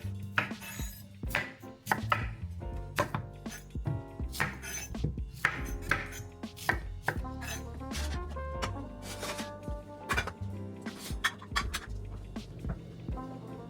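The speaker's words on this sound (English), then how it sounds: "You're gonna cut the edges just like this." Knife cutting the edges of Korean sweet potatoes on a board, a brisk series of sharp close chops and taps in an uneven rhythm, with faint background noise.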